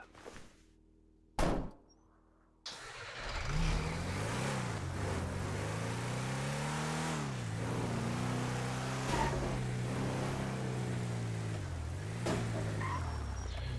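A car in the post-apocalyptic FiveM roleplay game, heard as a door thunk followed by a steady engine drone that rises and falls as the vehicle drives and shifts, close and unaccompanied by talk.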